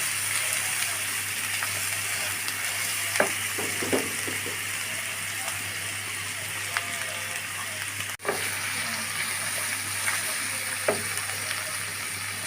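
Garlic paste and chopped garlic fry in a pan with a soft, continuous sizzle, close and fairly quiet, broken by a few scraping stir clicks and one sharp knock partway through.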